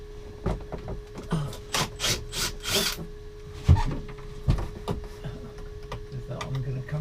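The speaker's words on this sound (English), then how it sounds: "So let's take out the screws that tack the panel in place." Screws holding a panel in place on a sailing boat are taken out, giving scattered ticks and clicks, a few whirring driver bursts and a couple of knocks, close up, with a steady low hum underneath.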